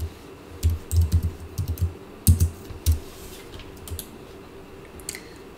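Keys clacking on a computer keyboard, about a dozen soft taps in quick irregular groups, close by and fairly quiet, then fading to a few isolated presses.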